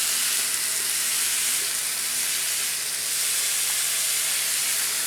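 Food cooks on a small mini plancha griddle, giving a loud, continuous sizzling hiss that stays steady and close for the whole stretch, with no voices.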